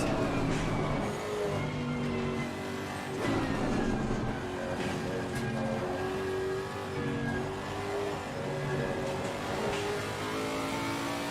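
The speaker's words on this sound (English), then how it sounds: "It's pretty insane how loud this car is." Race car engine in the Assetto Corsa Competizione sim at Silverstone, droning loudly and steadily throughout with rising and falling revs through gear changes, plus occasional faint tire squeal.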